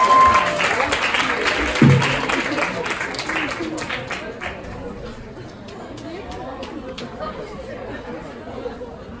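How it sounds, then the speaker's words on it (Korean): A school chapel audience applauds to welcome a pastor, with clapping and chatter loud at first and then thinning out into scattered claps and murmuring. "우리 박강룡 목사님 앞으로 초대할 때 큰 박수로 환영하겠습니다"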